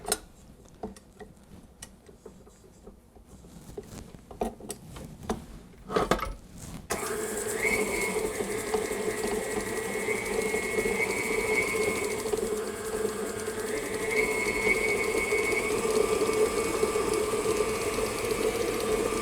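Electric hand mixer creaming butter and sugar for a chocolate orange torte at medium speed, a steady close whir that starts abruptly after quiet clattering and runs continuously, with slight pitch shifts as the beaters work.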